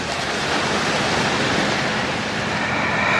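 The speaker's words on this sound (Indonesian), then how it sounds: "gulungan ombak yang terus bergulir dan silih berganti" Ocean waves rolling in continuously, a steady, full roar of surf with no distinct breaks, loud and close, with no voices over it.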